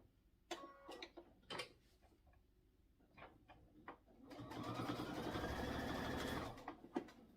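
Sewing machine stitching quilt binding off a corner: a few separate clicks and needle taps, then a steady mechanical whir of rapid stitching for about two seconds, ending in a couple of taps.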